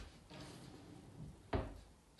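A kitchen wall unit cupboard door knocks once, sharply and close, during fitting, after a softer bump and low shuffling handling noise; no one speaks.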